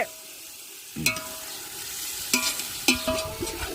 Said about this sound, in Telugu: అల్లం వెల్లుల్లి పేస్ట్ కూడా వేసేసుకున్నాం మొత్తానికి వేసుకొని బాగా ఫ్రై చేయాలి